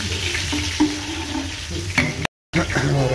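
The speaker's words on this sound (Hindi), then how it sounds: "जो लहसुन था ना वो ऐसे ही घी के अंदर डाल दिया, जैसा कि गर्म हो गया" Garlic fries in hot ghee in a large pot for a big batch of salted beef, with a soft steady sizzle and scraping stirring strokes.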